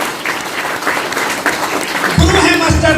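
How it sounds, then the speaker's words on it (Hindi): Audience applause at an RCM business seminar in Chhapra, steady clapping from a crowd that swells louder near the end, heard under someone speaking on a microphone. "कंपनी के मालिक मिस्टर पीसी छाबड़ा जी पर ताली बजाइए"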